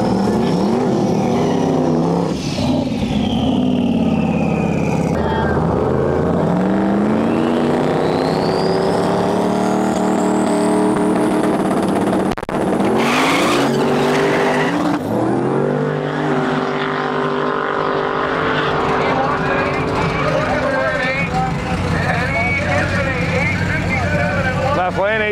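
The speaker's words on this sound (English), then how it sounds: "Too much power in it, spinning the tires right off the car." A powerful car spins its tires, engine revving hard through rising and falling pitch sweeps across a long stretch, with a loud roar while a person talks over it.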